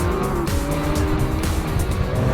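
A 2016 Lamborghini Aventador Roadster's naturally aspirated 6.5-liter V12 roars loud and close on the road, a dense sustained engine howl with tire noise and no voices.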